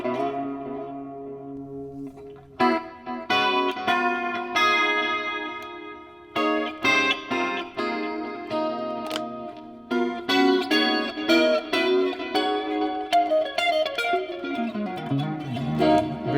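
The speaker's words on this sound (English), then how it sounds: "So I don't know if you can hear it, but it's going back and forth, right and left." Electric guitar played through a NUX Mighty Plug headphone amp with ping pong delay, chords and single notes echoing back and forth in repeating trails, a descending run near the end, no talking.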